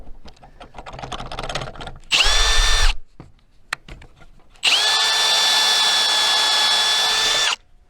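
A power drill drives pocket-hole screws into wood in two sustained, loud whirring bursts, the second longer, with light clicks and handling noises between them.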